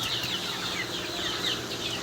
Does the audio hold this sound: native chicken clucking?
yes